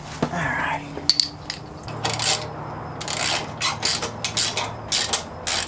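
A ratchet wrench tightens bolts while a 4WD winch, a Carbon 12000lb unit, is installed, giving bursts of quick mechanical clicking in short runs with small knocks and clinks between them, close and fairly loud with no talking.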